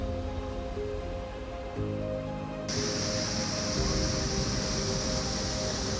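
River water flows out at the resurgence of a lava tube, a steady broadband rush that swells noticeably louder partway through and continues unbroken, with no voices.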